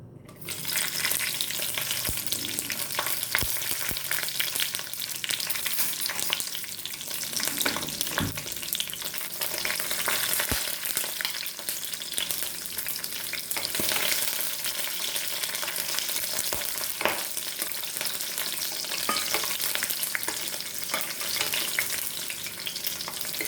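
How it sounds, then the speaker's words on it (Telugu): Green chillies and dried red chillies fry in hot oil for a chutney, giving a loud, steady sizzle with occasional stirring scrapes throughout, with no one speaking. "ఇది ఆయిల్లో ఫస్ట్ మనం పచ్చిమిర్చి, ఎండుమిర్చి వేసి వేయించుకుందాము"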